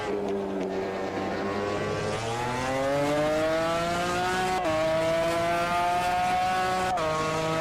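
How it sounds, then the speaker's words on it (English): Race car engine in the Automobilista 2 racing video game, a loud, steady engine note climbing in pitch through the revs, broken by two abrupt gear shifts, with no talking. "I just want to hear the car."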